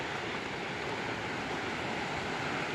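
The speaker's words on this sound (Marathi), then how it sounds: "हो हो धबधबा बघा कसला खतरनाक आहे" Bendewadi waterfall near Lonavala, a loud steady roar of falling water filling the whole clip, heard from close by with no talk.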